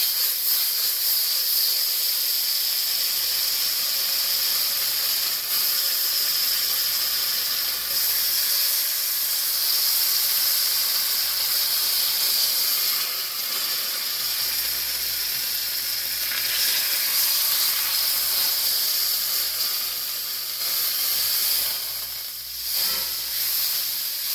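A pot roast sears and browns in a pan, giving a loud, steady, close sizzle and hiss that goes on without a break.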